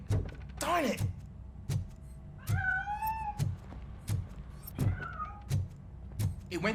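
A cat meows several times while escaping in the video game Robocop: Rogue City. The few drawn-out meows rise and fall against a steady rhythm of dull thumps and game ambience.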